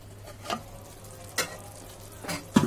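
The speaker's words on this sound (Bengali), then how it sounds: "আবারো একটু নেড়েচেড়ে নেব চামচ দিয়ে নেড়ে নেছি" Pickle stirred with a spoon in a pan, with three brief scraping strokes over a quiet low sizzle, close and without talk.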